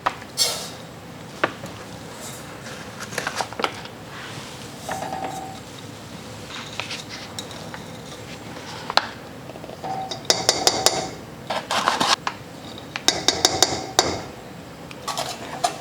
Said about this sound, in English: We just whisk it until the cocoa powder and the sugar are mixed together.